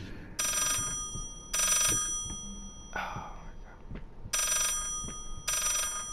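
In the horror video game Layers of Fear, a telephone rings in repeated bright bursts with short gaps between them, loud and close, while faint movement sounds fill the pauses.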